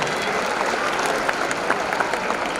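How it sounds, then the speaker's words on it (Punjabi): Audience applause from a crowd at a live Punjabi talk event, a steady wash of clapping hands sustained at even loudness for the whole stretch with no voice over it. "ਇੱਕ ਵਾਰੀ ਤਾੜੀ ਲਾ ਦਿਓ"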